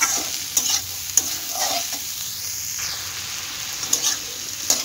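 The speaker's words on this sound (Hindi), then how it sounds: "अब इसे सब मिलाकर हम अच्छे से फ्राई करेंगे।" Masala spices and tomatoes fry in a pan for mixed vegetable sabji, a steady close sizzle broken by several sharp scrapes and clinks of a spoon stirring against the pan.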